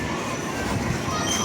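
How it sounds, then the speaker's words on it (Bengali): A train pulls into a station platform in Kolkata with a low, continuous rumble, rolling wheel noise and a faint squeal close by. Background voices are heard. "ট্রেন ঢুকে গেল"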